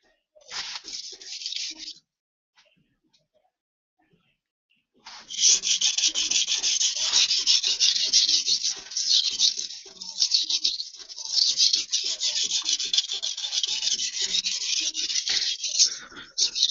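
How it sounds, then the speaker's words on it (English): A knife blade stroked on a sharpening stone to remove the burr: a brief burst of gritty scraping, a pause, then long continuous rasping strokes in a steady back-and-forth rhythm, loud and close. "we're reducing and removing the burr as we go through our sharpening process."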